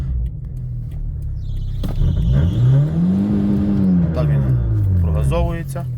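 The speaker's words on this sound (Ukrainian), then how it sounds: "все гарно заводиться, все гарно працює і так далі. Голова. Ну. Обороти працюють гарно" A VW Polo 1.4 engine idles with a low rumble, then revs once, its pitch climbing smoothly and easing back down before settling near idle, loud and close.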